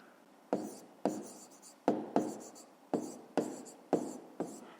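A pen writes out a fifth-grade math solution on paper, making repeated scratchy strokes in short bursts of roughly a half second each, close and distinct, with no talking.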